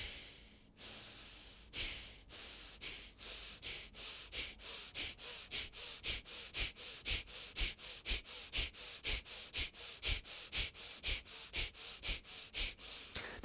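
Bhastrika pranayama bellows breathing: forceful, rapid inhales and exhales through the nose in a steady pumping rhythm of about two to three breaths per second, close and loud, quickening slightly after a few slower opening breaths.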